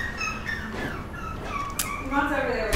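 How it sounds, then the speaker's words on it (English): A dog whimpers and lets out several high yips close by, the thin whining cries rising and falling beneath people talking nearby. "What is he barking at?"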